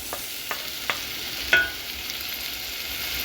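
Tomatoes frying in a pan give off a steady broadband sizzle, with a few sharp clicks and clatters from stirring scattered through it. Nobody speaks.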